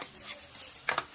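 A spoon stirs chilli powder into dried prawn pulusu (prawn curry), giving faint scraping and a couple of soft metallic clinks near the end.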